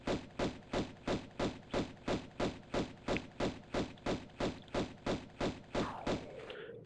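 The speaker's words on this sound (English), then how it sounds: "we're gonna go ahead and shoot him" Gunshots fire at an enemy in Tomb Raider 1's City of Khamoon level, an even, rapid series of about twenty sharp thuds, loud and close, ending in a brief fading tail.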